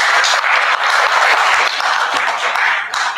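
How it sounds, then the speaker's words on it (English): Audience at a university social media conference claps together in sustained, dense applause, loud and steady throughout with no break. "Can you give ourselves a round of applause?"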